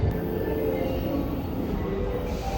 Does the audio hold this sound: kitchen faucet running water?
no